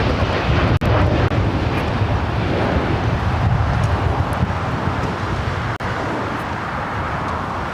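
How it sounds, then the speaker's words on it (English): A United Boeing 787 Dreamliner, flight 231 to London, departs LAX as a broad, steady jet roar heard from a distance, a constant low rumble with faint wind, with no voices. "That was the United Dreamliner heading to London, flight 231."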